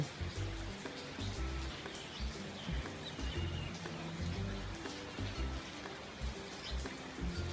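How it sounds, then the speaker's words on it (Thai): Steady rain falls at a home during a hot spell, a dense, even patter of drops filling the scene without a break, with faint bird calls in the background. "ที่บ้านแม่อยู่ตอนนี้ฝนตกค่ะ"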